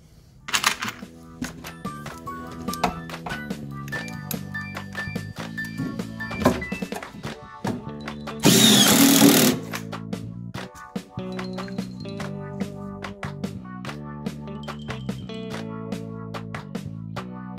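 A cedar dock section is assembled in a garage with a Camo Marksman deck tool, giving a long run of sharp, close wooden knocks, clacks and thunks in an irregular rhythm, plus one brief loud hissing burst midway.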